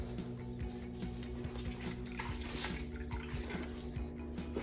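Water splashing and dripping as a washing towel from a rinseless car wash is wrung out, soft trickling and splatter under a low background hum, no talking.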